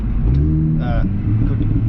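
Mini Cooper GP engine droning steadily at a low pitch while the car is driven, with someone talking over it throughout.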